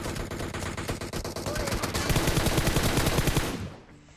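Rapid automatic gunfire spray in a shooter video game, a dense loud burst of shots lasting several seconds before cutting off, with no talk.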